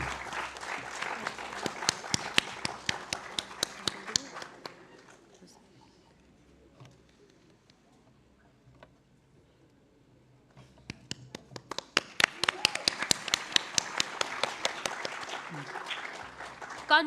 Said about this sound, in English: Please welcome with a huge round of applause, Alankrita Srivastav.